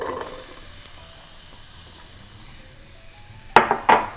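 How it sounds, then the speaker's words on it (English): Onions, cauliflower and red pepper tossed into hot spices in a pan, a soft steady hiss followed near the end by two sharp clattering bursts of stirring or pan contact. "I'm just going to let them fry in the spices a bit"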